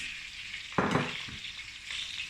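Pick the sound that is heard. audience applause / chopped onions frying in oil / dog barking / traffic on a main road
chopped onions frying in oil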